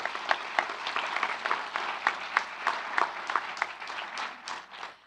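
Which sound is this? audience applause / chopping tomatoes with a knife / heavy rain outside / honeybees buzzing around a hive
audience applause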